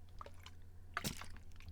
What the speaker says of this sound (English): I'm going to have a sip of water.